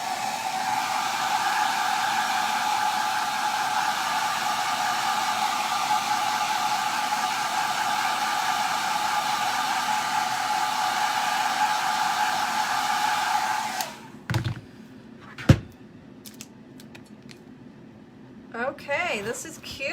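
A hair dryer blows a steady, loud whoosh for about fourteen seconds while drying chalk paste on a glass block, then switches off, leaving a few faint knocks and handling sounds.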